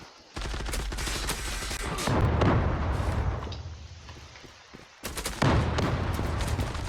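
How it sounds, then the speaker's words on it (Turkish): Shotgun blasts in the online shooter Zula during a competitive match, sounding as loud, dense bursts of rapid gunfire in two clusters separated by a quieter stretch, with no talking. "Birisi pompalı ile tarıyor"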